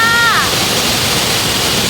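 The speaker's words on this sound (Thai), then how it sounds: "น้ำตกที่นี่คือสวยมาก" Mai Kai waterfall in Thailand roars as a loud, steady broadband rush close by, with a brief voice over it near the start.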